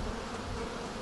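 A swarm of honeybees clustered around their queen outside a crowded hive makes a dense, steady buzzing drone, loud and close, with nothing else heard.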